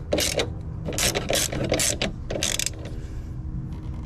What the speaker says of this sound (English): Let's go ahead and bolt this up.